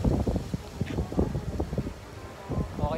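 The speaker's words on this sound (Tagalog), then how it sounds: "Napakalakas ang hangin," Strong wind blows at the white sand beach on Manila Bay while a kite flies, buffeting the microphone in low, uneven gusts that rumble steadily and sit close and fairly loud.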